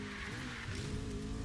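Car in the racing game Need for Speed Rivals braking hard into a drift, a loud continuous engine roar with tires squealing throughout, and no voices.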